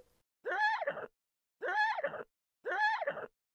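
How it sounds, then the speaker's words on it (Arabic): A horse neighs three times in an even rhythm in a children's animal song. Each whinny is clear and close and comes alone, with short silences between the calls. "تك تك تك من في الباب انا الحصان يا اصحاب ناي ناي"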